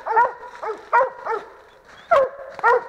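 Coon hounds bay at a treed raccoon on a night hunt at Phelps WMA, with loud, close, repeated barks in an uneven rhythm, some overlapping.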